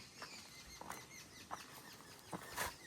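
Birds flap their wings at a grain feeding spot in a quiet rural area, a soft, fluttering whir with several bursts of wingbeats over a few seconds and no talking.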